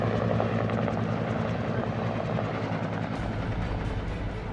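An AH-1Z Viper attack helicopter drones steadily nearby, rotor chop and engine roar filling the air without pause, with a shift in tone toward the end.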